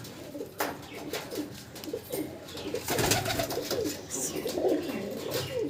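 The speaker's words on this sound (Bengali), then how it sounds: "দেখে নিন পায়রার, এই যে হচ্ছে পায়রা।" Pigeons, including a male and female pair from a bird sale in Ranaghat, coo in low, throaty, rolling calls that repeat close by over a continuous background hum, with faint rustling between calls.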